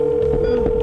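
A telephone held to place an urgent call to a hospital gives out a steady electronic tone, close and clear, for under a second with some faint rustling mixed in.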